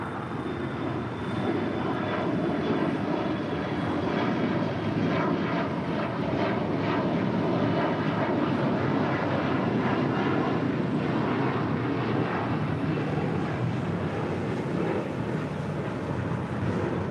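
An airliner rolls down runway 25 Right at LAX for takeoff, a steady, loud jet engine roar with some wind buffeting that holds constant throughout.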